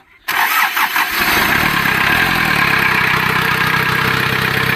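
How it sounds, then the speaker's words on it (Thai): A used rice mill truck engine cranks over and catches almost at once, then settles into a loud, steady, rough idle that runs on without a break. "เดี๋ยวลองสตาร์ทให้ดูอ่ะตัดเลย"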